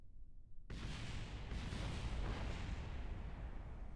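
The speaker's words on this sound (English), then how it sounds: "That was a lot of explosions, actually." Video game explosions in Kerbal Space Program, likely a craft crashing on landing: silence, then a sudden loud blast that swells into a sustained roaring, rumbling barrage of overlapping booms lasting several seconds.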